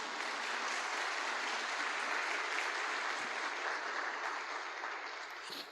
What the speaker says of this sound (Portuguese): Pode dar um forte aplauso ao Senhor Jesus?